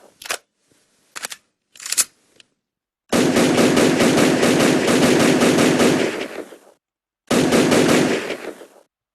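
Gunfire in an Unreal Engine 5 game shooting at an AI-generated NPC: three short single shots, then a long loud automatic burst lasting about three seconds, a pause, and another sustained burst.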